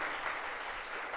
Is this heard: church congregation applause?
yes